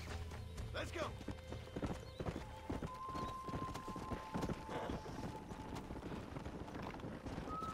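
A horse's hooves clip-clop in a quick, uneven rhythm close by in Red Dead Redemption 2, with a brief neigh and a faint tonal hum in the background.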